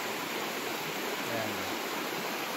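Steady flowing water at Biak na Bato, a broad constant rush with one short word spoken over it.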